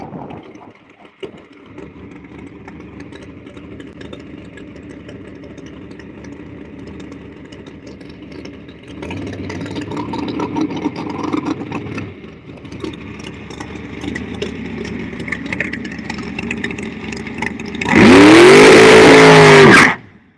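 Drag racing cars run in the lanes during testing, with engines idling and rumbling at a moderate distance, building louder midway and ending in a sudden very loud, close roaring pass near the end.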